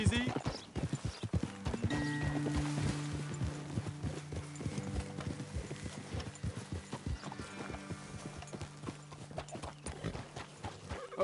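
Horses walk in the video game Assassin's Creed Origins, their hooves clip-clopping in a steady rhythm close by, with a faint mechanical clank and brief tonal game sounds in the background.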